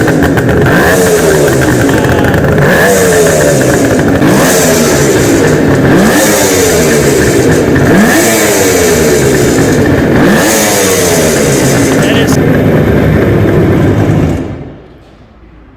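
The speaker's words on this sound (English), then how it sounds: "that is a 1970s Kawasaki KH500 triple" A 1970s Kawasaki KH500 three-cylinder two-stroke motorcycle is revved up and down over and over in a rising-and-falling rhythm, loud and close, before it cuts off near the end.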